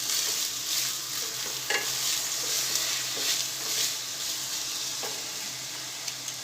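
Cooked rice being stirred into a hot pan with cloves for sweet kesariya bhat, a steady close scraping and soft sizzle running throughout with a few sharper spoon knocks, no voices.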